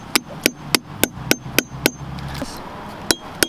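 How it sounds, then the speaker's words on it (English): Metal tap hammered into a maple tree trunk, a series of sharp close strikes in a steady rhythm, seven quick blows then a pause before two more. "We hammer in a different spot. We hammer it right here"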